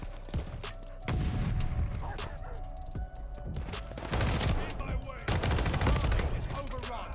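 Rapid gunfire from a Cooper Carbine in the video game Call of Duty Vanguard, loud repeated bursts and shots overlapping with other battle noise, with a brief lull before heavier volleys near the end.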